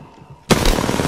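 Gunfire in a video game shooter bursts in abruptly after a quiet moment, loud and close, with dense rapid shots and a booming low end that keep going to the end.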